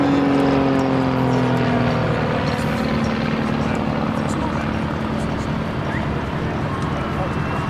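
A Tutor light propeller aircraft flies at an air show, its steady engine drone filling the air and shifting slightly in pitch as it passes; a commentator's voice is heard over it.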